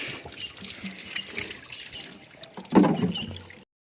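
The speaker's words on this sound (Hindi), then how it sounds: "तो मेरी बहन यहाँ पर डब्बे भर रही है और मेरे 2 डब्बे भी भरेगी अभी" Water runs and trickles steadily into canisters being filled at an outdoor source, with a louder gushing splash near the end, and no talking.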